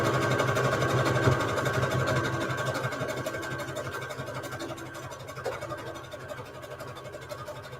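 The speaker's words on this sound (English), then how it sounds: "let me get this zigzag stitch on" A sewing machine runs steadily, stitching a zigzag pattern on quilted fabric with a continuous mechanical whir and rapid needle clatter, close and alone, slowly easing in loudness.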